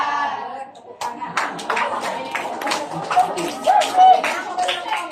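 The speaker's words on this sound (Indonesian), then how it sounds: "Tepuk tangan." A high school class claps together in a short burst of scattered, uneven claps, with voices and classroom chatter mixed in.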